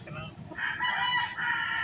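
Rooster crowing at close range in a loud outdoor farm yard, two long drawn-out calls in a row over a busy background with faint voices and clucking.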